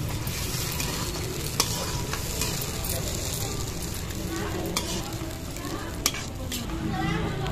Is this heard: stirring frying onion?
yes